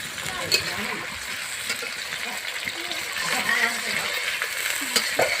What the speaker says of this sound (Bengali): তাহলে পেঁয়াজটা খুব ভালোভাবে তাড়াতাড়ি ভাজা যাবে।